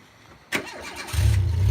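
A cheap Renault car with a manual choke pulled out cranks briefly, catches, and then settles into a loud, steady low idle close by.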